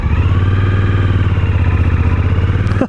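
A 2021 Suzuki V-Strom 1050XT motorcycle engine pulls away from a stop, a loud, close, steady throbbing drone with a low rumble that holds even throughout and cuts off sharply at the end.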